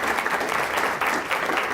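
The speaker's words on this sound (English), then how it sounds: "Can we have a round of applause for Gary Jones?" A conference audience gives a round of applause for a co-presenter, a continuous, fairly loud crowd clapping with no voices.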